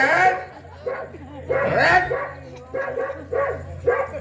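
On stage during a Marathi musical drama, a performer's voice mimics dogs barking in a run of short yapping, whining barks in separate bursts, loud and close.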